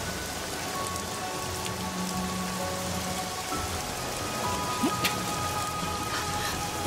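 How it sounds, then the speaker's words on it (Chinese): Heavy rain pours steadily onto surfaces in a constant, even wash of drops with no pauses, with no voices heard. "这么大雨还站在这儿"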